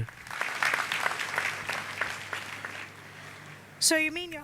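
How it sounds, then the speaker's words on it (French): A church congregation applauds in a steady, moderately distant patter of clapping that lasts several seconds, then a voice breaks in at the end. "Acclamons le Seigneur Jésus-Christ"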